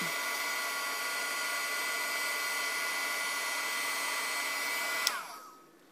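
Heat tool blowing steadily to melt embossing enamel on a Halloween card, a loud continuous whooshing hum that runs alone for about five seconds, then clicks off and winds down.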